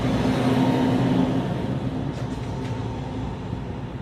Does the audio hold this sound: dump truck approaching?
yes